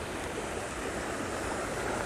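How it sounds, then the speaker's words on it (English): Water in Quartz Creek, a small stream in the Little Naches hills, rushes in a continuous, even, moderately loud wash with no voices. "So this is Quartz Creek"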